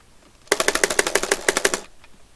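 Rapid rake strumming on the plastic strum bar of a Clone Hero guitar controller, about a dozen sharp, evenly spaced clicks in a quick burst, close and crisp, then silence.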